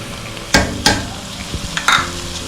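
Ginger garlic paste added to onions frying in hot oil, with a few sharp stirring clatters and soft sizzling beneath, loud bursts near the start and again toward the end.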